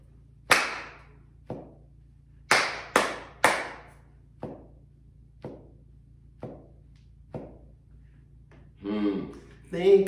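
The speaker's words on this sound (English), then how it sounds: "I'll clap it for you again." A single pair of hands claps a slow rhythm of sharp, close claps for a music lesson, with one clap left ringing longer as a long note, followed by a spoken voice at the end.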